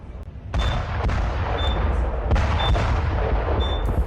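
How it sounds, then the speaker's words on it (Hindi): Outside Trump Tower, a series of sharp booming blasts punctuates a loud, rumbling outdoor din, several heavy impacts spread a second or so apart. "ये देखिए तस्वीर आपको दिखा रहे हैं ट्रम्प टावर के ठीक बाहर ये धमाका"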